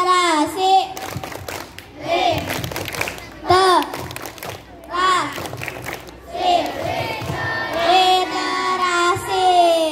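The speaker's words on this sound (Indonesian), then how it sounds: "Tepuk literasi." Schoolchildren in a sixth-grade class perform a literacy chant with rhythmic group clapping, sharp bursts of claps alternating with loud, sung children's voices in a lively, echoing room.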